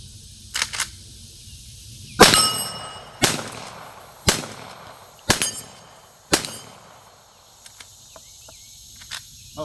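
A Marlin 1894 lever-action carbine fires .44 Special rounds outdoors: five loud, sharp shots about a second apart, each echoing briefly, with faint mechanical clicks of the action between and after.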